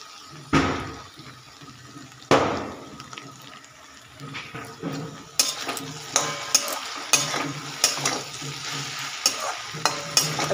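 Okra frying in a pan on a gas flame while being stirred, steady sizzle with louder scraping strokes at irregular intervals that become quicker and more frequent toward the end.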